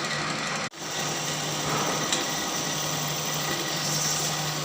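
A drilling machine runs steadily through a 12 mm through-hole, a continuous mid-level motor whine that drops out briefly near the start before resuming.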